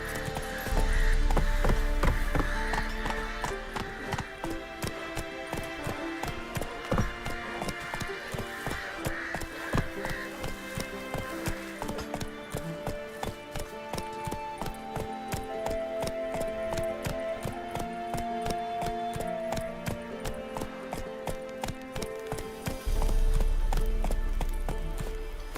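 Roach, the horse in Witcher 3, galloping, with rapid steady hoofbeats over a game music bed, loud and continuous, and a louder swell near the start and end.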